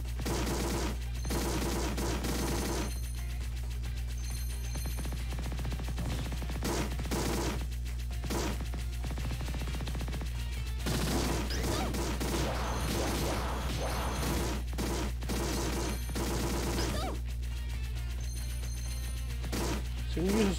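May's shots in the PSP shooting game Neo Geo Heroes Ultimate Shooting fire in rapid, repeated bursts of crackling gunfire over a constant low game hum, with brief pauses between volleys.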